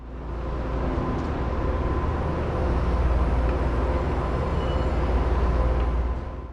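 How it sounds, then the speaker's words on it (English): A BART Rohr Class A commuter train pulls into a station, a steady broad rumble and rolling wheel noise that builds and holds for several seconds, with no talking. "And here comes our train arriving on its inbound service from Daly City just now."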